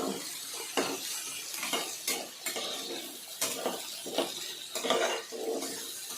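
Chicken fries in a pan while a metal spoon stirs it. Rhythmic scraping clinks repeat steadily over a constant sizzle, up close, with no talking.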